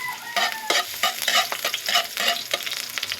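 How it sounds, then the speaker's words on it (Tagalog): Chopped garlic sautéing in a little hot oil for a milkfish dish, with a steady sizzle and repeated scrapes and clinks of a utensil stirring the pan, close and fairly loud, no talking. "Igisa ko na."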